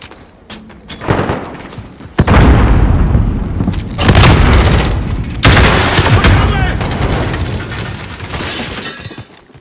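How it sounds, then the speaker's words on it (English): Booming blasts and shattering crashes tear through a Call of Duty: Modern Warfare firefight as a grenade goes off; there are several loud, broad explosions with debris rattling between them. "Grenade out!"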